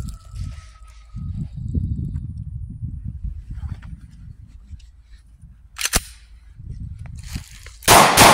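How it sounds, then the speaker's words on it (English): Two sharp, loud shots from a Glock 21 pistol fired outdoors at a nano-tech bulletproof vest, spaced about two seconds apart, following a stretch of low rumbling wind and handling noise. "That's two shots."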